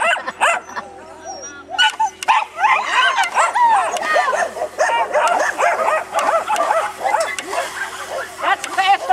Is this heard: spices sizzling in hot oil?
no